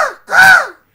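A mimicry artist voices a crow's caw, giving one loud, close, drawn-out call that rises and falls, preceded by a shorter fading cry; the voice is imitating a crow, with no talk over it.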